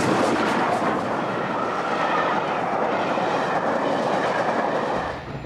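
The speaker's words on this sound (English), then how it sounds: "it's great to be able to travel on a train like this, the Flying Scotsman" Flying Scotsman steam train running, a steady loud roar of the moving carriage with rhythmic wheel clatter on the rails, continuous throughout and easing slightly at the end.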